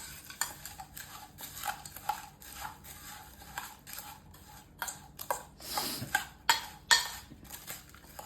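A spoon stirs and mixes food in a pot at home, giving repeated close scrapes and light metallic clinks in an uneven rhythm, with a few louder knocks toward the end.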